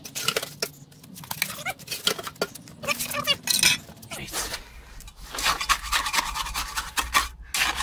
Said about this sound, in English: I don't want to shovel it in too hard because I don't want to move the bolt to the plate.